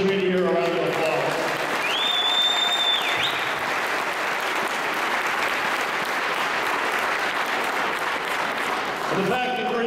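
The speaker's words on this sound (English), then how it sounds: "let's give the business community here a round of applause" Thick, sustained applause for the business community at Greater Mankato Day at the Capitol, with a brief whistle early on and voices mixed into the clapping.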